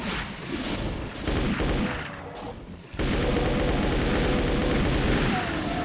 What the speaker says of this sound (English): I also got a rocket launcher. I'm gonna use that against at least one of these guys.